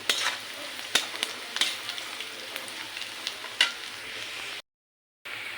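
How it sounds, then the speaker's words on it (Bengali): Onions and green chillies fry in a pan with a soft, steady sizzle, broken by sharp clicks and scrapes of stirring. Sound cuts out briefly near the end. "এখানে আমি পেঁয়াজ কাঁচামরিচ ভেজে নিচ্ছি।"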